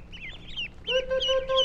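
Young ducks in a group of about a hundred make soft, broken peeps, then a louder, sustained nasal call repeats three times, close by and alone.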